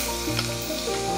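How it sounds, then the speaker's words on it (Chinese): Shrimp tipped into a hot wok already holding chicken, setting off a loud, steady sizzle and crackle that fills the brief moment without any voices. "然后把虾倒进去"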